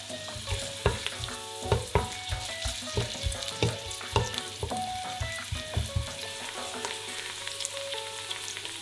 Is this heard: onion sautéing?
yes